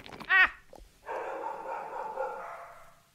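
Dogs in the cottage-building game Tiny Glade give a quick yip, then a sustained whiny bark-howl that carries on for a couple of seconds, fairly close and clear.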